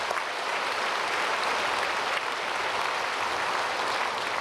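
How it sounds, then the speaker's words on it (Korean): A church congregation at a Sunday worship service claps in a dense, continuous roar of many hands, even and sustained throughout with no talk over it. "박수로 축복하겠습니다"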